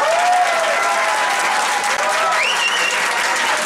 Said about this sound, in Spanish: Aplausos también para Alexandra Daimon.